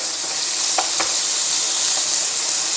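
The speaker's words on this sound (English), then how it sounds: "The bacon is crisping up lovely" Smoked bacon crisping in a frying pan gives a dense, even sizzle that stays loud and close, with a couple of faint taps of a utensil.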